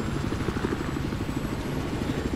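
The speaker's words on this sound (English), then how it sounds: "I'm in a fucking helicopter now that has guns" Helicopter rotor chop in the Battlefield 4 video game, a steady rapid thumping at close range, heard alone without talk.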